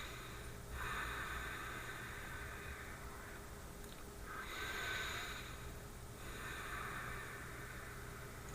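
A person breathes slowly and deliberately in long, steady cycles, each inhale and exhale a broad airy rush close to the ear, repeating about every three seconds with no talk.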